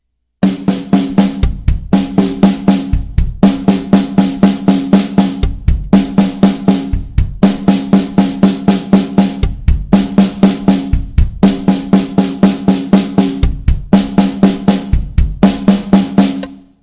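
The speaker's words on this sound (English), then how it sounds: "Played on the snare alone, that would sound like this." A rock drum fill played on the snare drum alone, with sharp, loud stick strokes in rapid repeated bursts and brief gaps between phrases, close and dry, running about seventeen seconds with no talking.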